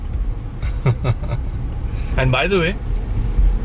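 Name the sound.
road traffic around a car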